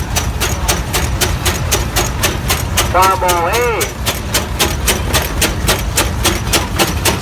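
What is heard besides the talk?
1922 antique tractor engine running in parade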